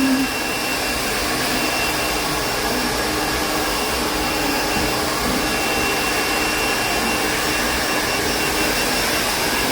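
Steady, loud whooshing roar of a hair dryer blow-drying hair in a salon, constant and unbroken throughout with no talking.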